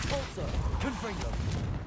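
Rapid spell blasts from the Repulsor and Confringo spells in Hogwarts Legacy, a dense burst of bangs and whooshes under a loud voice shouting.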